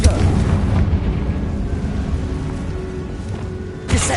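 A Confringo fire blast spell from the Hogwarts Legacy video game bursts with a loud, crackling roar that rumbles on and slowly fades, then a fresh sharp hit lands near the end.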